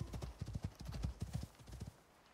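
Rhythmic clip-clop of horse hooves on a ridden horse in a video game, brisk steady trotting beats that stop near the end, with a faint whinny.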